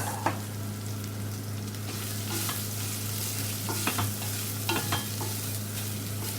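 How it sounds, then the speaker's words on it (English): Half-cooked lemon rice is sautéed in a pan, with a continuous frying sizzle and the repeated scrape and tap of a spatula stirring it, no voices present. "Saute everything together."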